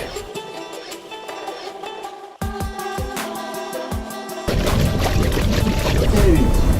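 Well water pours and trickles through a filter into a sailboat's onboard tank on deck, a steady splashing flow that grows louder and denser partway through, with no talk over it.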